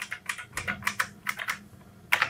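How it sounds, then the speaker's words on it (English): Brisk typing on an IBM Model M buckling-spring keyboard: loud, sharp clacky keystrokes in an uneven rhythm, close up with no talking. "People love these keyboards for the sound that they make, along with the Model F's that I was just showing. These keyboards have a buckling spring."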